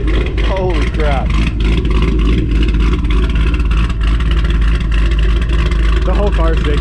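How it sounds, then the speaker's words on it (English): A cammed Cadillac CTS-V engine idles with an aggressive, loping chop and a slight exhaust leak, a loud, uneven rumble close by, while someone talks over it. "That's how aggressive this thing is chopping right now."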